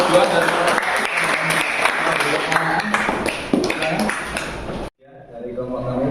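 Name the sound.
applause for group 2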